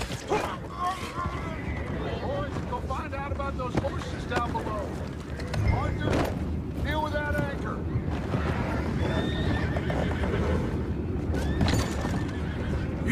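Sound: horses neighing in a video game

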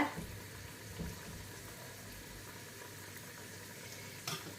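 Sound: soya meat vada frying in oil, flipped over

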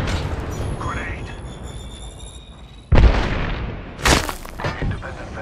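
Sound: grenade explosion in the video game Apex Legends

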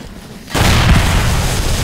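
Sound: explosion in the video game 7 Days to Die

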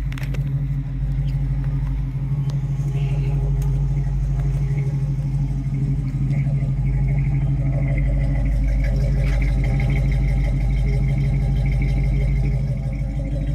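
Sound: 1964 Ford Mustang original 260 engine idling

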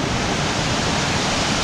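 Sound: Bridal Veil Falls waterfall, Columbia River, Oregon

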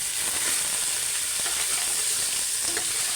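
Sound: cumin, onion and green chili frying in a pan

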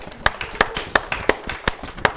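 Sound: applause from the audience

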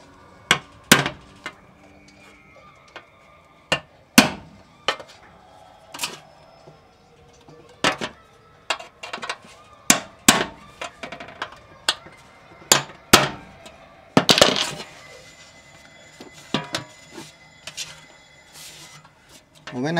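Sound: making holes in an aluminum pot

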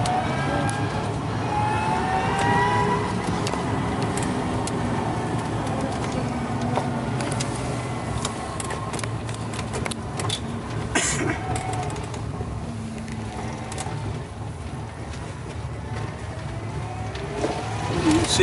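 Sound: ZEV T3 electric pickup trike motor accelerating uphill

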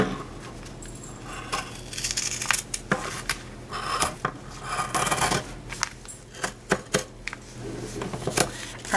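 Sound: cutting out a fabric piece for a penguin sewing project

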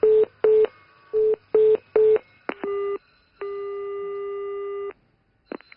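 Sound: telephone busy tone after a call drops

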